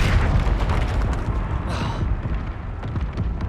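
A Confringo blasting spell explodes in the Hogwarts Legacy video game, a loud, dense booming burst that rolls on continuously with crackling debris for a few seconds.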